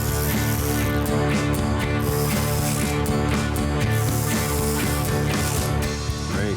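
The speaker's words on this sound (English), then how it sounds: "Now we'll need a smaller socket for these upper ones." A ratchet socket wrench turns bolts on a 440 Six Pack engine, giving continuous rapid metallic clicking close up, with repeated strokes and no talk.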